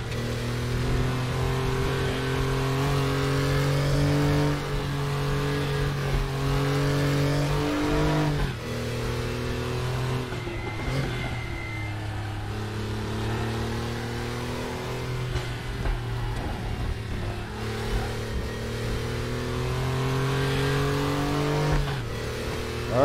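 An air-cooled Porsche 911 (964) race car engine in a racing video game drones loudly and continuously, revving up and down through gear changes with a steady mechanical hum.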